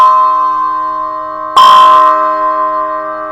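A bell cymbal struck once, cutting into a fading earlier ring with a sharp hit that blooms into a clear, bell-like tone with a strong fundamental pitch, then decays slowly on its own.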